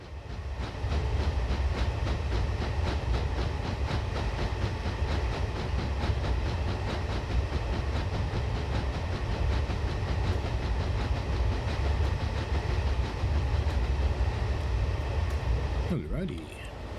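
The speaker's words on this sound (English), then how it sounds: "Train's clearly on the bridge by the excess sound." A Talyllyn Railway train crosses a viaduct bridge at slow speed, giving a loud, steady close-up rumble and rhythmic clatter of wheels that carries on unbroken for about sixteen seconds.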